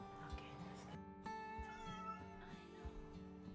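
A cat meows plaintively while being bathed, with close, loud cries as a person talks over them.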